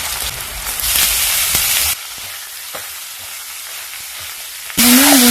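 Ground beef frying with onions in a pan, a loud close sizzle and stirring that drops away midway to quiet crackles before a bright hiss surges back at the end.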